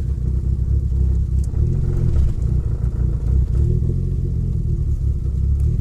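Steady low rumble of a Fiat Punto GT big-turbo engine while driving, a constant droning noise with no voices.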